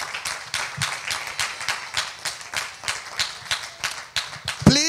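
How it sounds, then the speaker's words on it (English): A church congregation claps at a Father's Day service, a steady run of fairly even, moderately loud claps, slightly uneven in rhythm, with a brief voice at the very end. "Let's give God the best clap offering."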